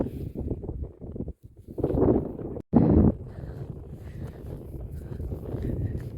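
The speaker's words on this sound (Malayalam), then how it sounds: "നല്ല കാറ്റുണ്ട്." Strong gusty wind buffets the microphone in heavy low roaring bursts, with brief drop-outs between gusts.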